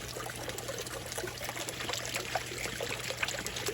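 Water from a pond fountain head splashes and churns steadily into a garden pond, a continuous close burbling with no talking.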